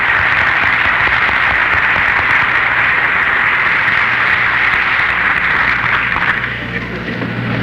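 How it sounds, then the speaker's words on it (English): A crowd at the KSTP-TV launch broadcast gives the assembled group a round of applause, a dense continuous wash of clapping that holds steady for several seconds and then begins to thin toward the end. "Now may we give a hand of applause to this entire group."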